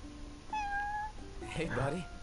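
A cat in the video game Final Fantasy XV gives a clear, drawn-out meow, followed by a busier stretch where further cat sounds mix with voices.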